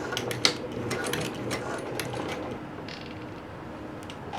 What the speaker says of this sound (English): You just want to anchor it down with a few stitches, about 1/4 inch